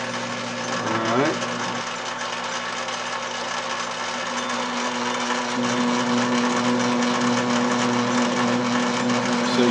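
A lathe takes a light cut of a few thousandths of an inch off the commutator of an Autolite generator, giving a steady, close machine whine with a sustained tonal hum throughout and a brief pitch sweep near the start.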